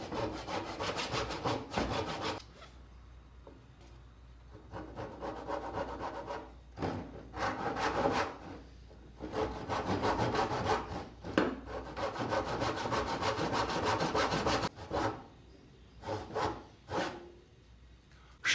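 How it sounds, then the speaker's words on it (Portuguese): A hand saw cuts wood held in a vise for a rustic diamond carving: long, steady rasping back-and-forth strokes in loud, even bursts with brief pauses between sets, close up and with no voices. "Eu vou cortar no serrote os 4 lados de baixo, os 4 lados de cima"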